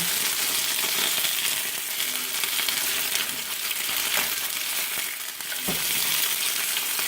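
Home fries frying in a pan and being stirred around: a steady, dense sizzle and crackle throughout, with soft scraping and shuffling as the potatoes are moved, and no talking.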